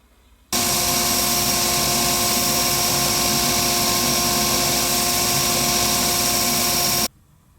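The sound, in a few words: power sanding a handmade windshield scraper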